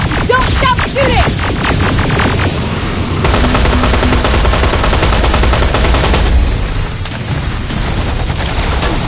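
Rapid automatic gunfire and explosions fill a firefight in the video game Terminator Resistance, loud and dense with overlapping bursts, while voices shout over the din.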